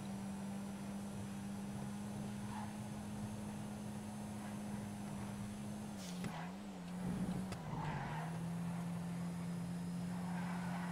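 A small Asea car in a GTA FiveM race holds a steady engine drone through a corner, with the pitch dipping and wavering briefly midway as the tires scrub. Quiet and continuous, with no voices.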